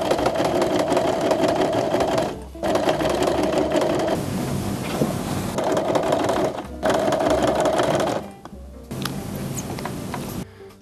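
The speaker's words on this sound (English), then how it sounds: "So I'm going to be using a decorative stitch to sew all the way around." A sewing machine runs a decorative stitch in long, steady whirring bursts with a fast mechanical chatter, pausing briefly a few times before starting again, close and loud.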